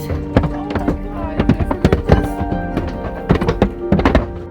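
Hail strikes the hard surface of a tiny house in irregular sharp thuds and knocks, in quick bursts, loud and close, with a few faint voices mixed in.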